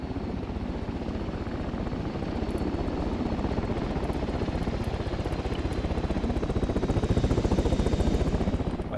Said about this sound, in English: Right, so helicopters are en route.